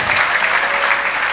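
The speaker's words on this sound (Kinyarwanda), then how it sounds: "amashyi ya special 1 2 3" A church congregation claps in a dense, steady burst of applause that fills the room, loud and sustained throughout.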